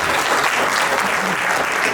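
Steady, dense applause from a large audience at a stage event, loud and unbroken, with no voices over it.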